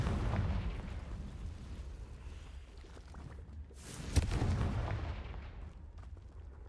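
A Confringo blasting spell explodes in Hogwarts Legacy, a deep rumbling boom with a sharp crack at its peak over low, steady background rumble.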